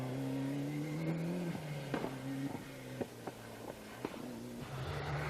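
A Group A Toyota rally car at a 1995 Cork 20 rally stage runs with a steady, loud engine drone, broken by several sharp gear-change or lift-off blips as it works through the stage.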